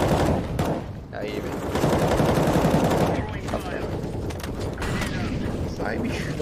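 Gunfire rattles in a shooting video game, bursts of rapid shots overlapping with loud, excited talk from players.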